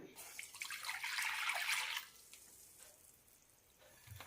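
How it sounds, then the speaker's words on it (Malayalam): Water poured into a cooking pan for a banana snack, a soft splashing pour that builds for about two seconds, then fades to quiet room tone. "ഒരു കപ്പ് വെള്ളം ഒഴിക്കാം"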